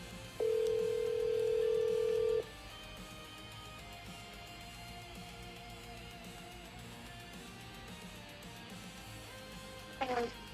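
A single steady telephone tone sounds for about two seconds, clear and fairly loud over a quiet room hum, followed by a long stretch of near-silence and a brief faint chirp near the end.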